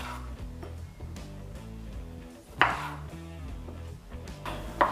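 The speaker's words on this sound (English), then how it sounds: "wash and cut the tomatoes in half" Knife cutting tomatoes in half on a board, with a few soft chops and two sharper knocks standing out over a background hum.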